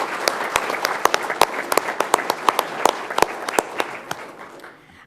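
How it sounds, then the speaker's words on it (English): City council meeting audience gives the newly sworn-in mayor a round of applause: moderate clapping with distinct sharp individual claps that fades out toward the end. "So, if we want to give him a round of applause again."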